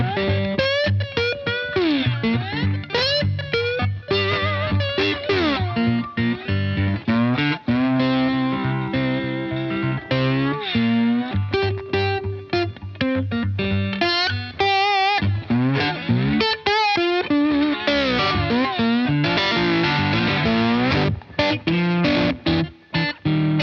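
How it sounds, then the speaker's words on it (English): A resonator guitar is played slide in open G tuning through a regular amp, with gliding, sustained notes and bluesy phrases. It is loud and close, continuous for the whole stretch, with no talking. "I just love these resonator guitars."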